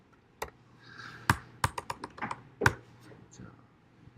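Close computer keyboard typing, with a few sharp key presses and a quick run of lighter taps in between, clicking on and off with pauses.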